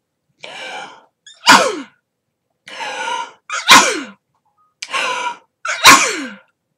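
A person sneezes three times in a row, each a sharp intake of breath followed by a loud, explosive burst, with short pauses between them.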